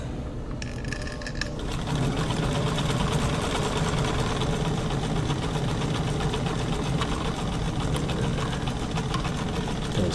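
A White 1044 sewing machine stitches a full zigzag, a steady close-up mechanical whirr and rapid needle chatter running continuously after a brief quieter start.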